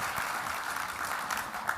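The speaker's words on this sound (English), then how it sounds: "So give him a round of applause for kicking off day two." Brief, steady audience applause at a cybersecurity summit welcomes a speaker onstage, an even wash of clapping lasting under two seconds.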